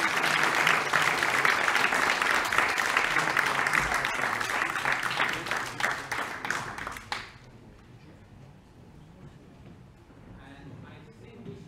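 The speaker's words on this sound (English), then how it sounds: "Please applaud the audience." Audience applause at a road safety awards ceremony: loud, dense clapping for about seven seconds that stops abruptly, followed by quiet room noise and faint speech.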